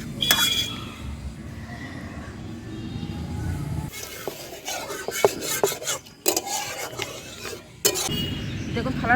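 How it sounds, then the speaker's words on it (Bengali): Tomato and vinegar mixture spread across an oil-brushed metal plate, with soft scraping and rasping strokes of a utensil broken by occasional clinks against the plate, close and fairly quiet. "এরপর এটাকে আমি নামিয়ে এই থালার মধ্যে মেলে দিচ্ছি"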